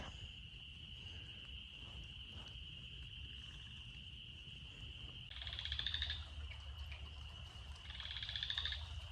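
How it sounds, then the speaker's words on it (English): A chorus frog calls in two loud, rasping trilled bursts against a steady high insect-like drone and low background rumble. "There's a chorus frog calling from the other side of the pipe"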